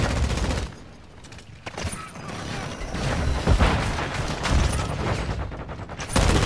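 Shotgun blasts in Call of Duty: Modern Warfare 2, loud and dense, with booming shots and clattering mechanical handling layered over continuous game noise across the whole stretch.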